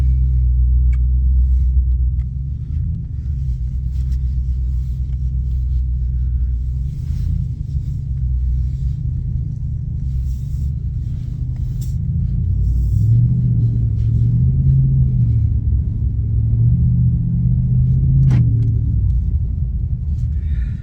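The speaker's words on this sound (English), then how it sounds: "It's got a pretty good rumble." A car engine idles and rumbles steadily while rolling slowly out of a residential neighborhood in Alaska, a deep continuous low growl that is loud and close throughout.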